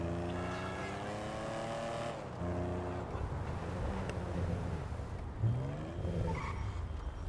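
An old car in GTA 5 driving along, its engine droning and shifting pitch as it revs and changes gear, moderately loud and steady throughout.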